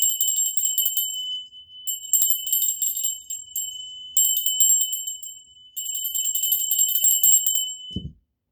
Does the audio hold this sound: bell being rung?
yes